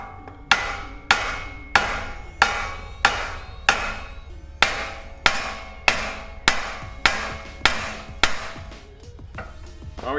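A big hammer strikes near a car's front wheel bearing during a replacement with no press, giving about fifteen loud metallic blows in a steady rhythm, each one ringing briefly.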